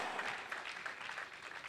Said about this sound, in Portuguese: aplauda o Senhor mais forte em nome de Jesus